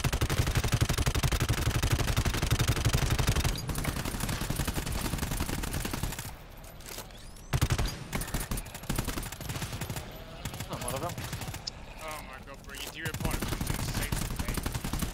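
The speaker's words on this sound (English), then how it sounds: "I'm gonna shoot." Sustained automatic gunfire from the co-op shooter GTFO, loud and continuous, broken by short pauses and later bursts, with voices talking over parts of it.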